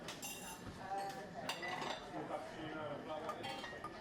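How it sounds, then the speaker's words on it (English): Light clinks of china and spoons sound against a steady murmur of voices and busy café background noise. "the clinking of china and spoons"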